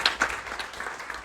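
Brief burst of congregation clapping at a church service, a few sharp claps close by against a background of scattered applause.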